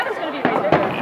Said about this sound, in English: First firework. Whoa! That's huge!